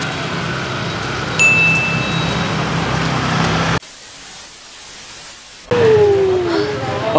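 Light rain falling along an empty road, heard as a steady broad hiss that drops away briefly midway, with a faint passing tone near the end.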